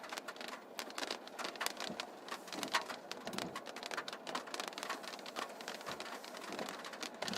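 Rain pours down as a storm with hail moves off to the east, a dense, steady patter with crisp drop impacts, close and continuous, no voices present.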